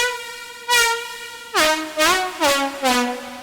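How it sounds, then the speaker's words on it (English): Fat synth bass or lead preset from a Team MBL pack, unprocessed and meant for house tracks: one held note, then four punchy repeated stabs with a buzzy, bright, horn-like tone, close and alone. "I used a preset from a Team MBL preset pack, and without any processing it sounds something like this"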